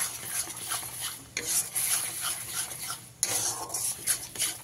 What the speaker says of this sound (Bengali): গ্যাসের ফ্লেমটা একদম লোতে দিয়ে ভালো করে মিশিয়ে নিতে হবে